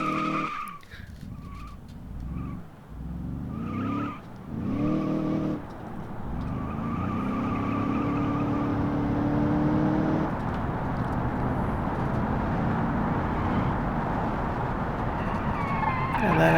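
A car in BeamNG skids and spins out under hard braking, tires squealing in long sustained screeches over a steady engine drone, with a few choppy bursts early on before a continuous slide.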